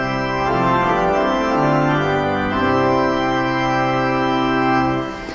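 A pipe organ division with all its stops drawn together, sounding a full, sustained chord that swells and shifts through several changes before releasing, loud and rich with dense overtones, no voices.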